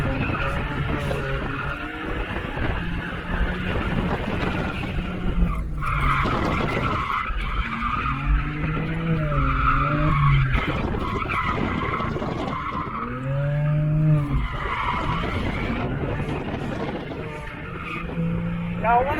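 A BMW 335i E92 with an open differential drifts, tires squealing and skidding in long wavering bursts over a loud engine roar. Voices talk faintly over the noise in places.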